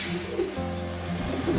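Racing pigeons coo in a loft, their low, throaty, steady calls overlapping in soft repeated phrases against a constant background hum.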